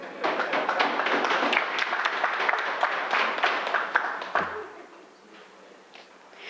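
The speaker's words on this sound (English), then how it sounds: "I thought that needed a clap, you know." Clapping from members in a parliament chamber during a national budget debate, a burst of several seconds of scattered handclaps that fades out, leaving quiet room tone.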